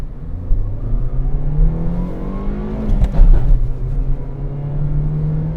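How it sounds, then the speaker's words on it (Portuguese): Peugeot 208 Like 1.6 engine with a manual gearbox pulling away from first gear, a steady near drone whose pitch climbs as revs rise, swells loudest mid-way, then settles into an even hum. "Até silêncio para vocês escutarem o motor."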